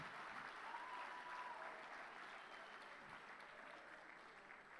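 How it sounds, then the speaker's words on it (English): Steady applause from a large hackathon audience at a closing ceremony honouring prize winners, a continuous even wash of clapping heard from a distance and fairly faint. "give yourselves a massive round of applause for winning"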